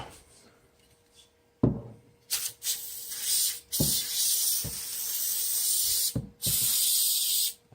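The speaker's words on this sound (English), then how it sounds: "And then we're going to spray this one." Paint stripper sprayed onto a Hot Wheels die-cast car in short hissing bursts, several close aerosol sprays separated by brief pauses, with no talking.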